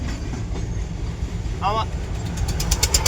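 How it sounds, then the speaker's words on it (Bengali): A bhotbhoti motor vehicle carrying straw rumbles past on a road in Kolkata, a steady low engine drone with a brief mechanical squeal midway and some light rattling toward the end. "দেখেন একটা ভটভটি করে খড় আসতেছে।"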